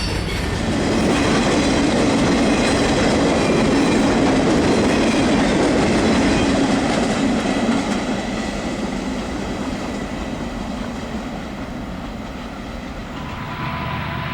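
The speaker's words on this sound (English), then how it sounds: "An SD45U leads this westbound past the east end of Christie siding." A Santa Fe westbound freight led by an SD45U locomotive passes the east end of Christie siding, its loud rumble and rhythmic clickety-clack of wheels strong at first, then slowly easing as the train rolls by, with no talking.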